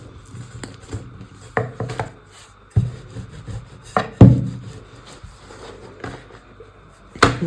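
Samsa dough being rolled out on a wooden surface, with intermittent rubbing and rolling strokes and sharp knocks and thumps of the rolling pin at irregular intervals, close by.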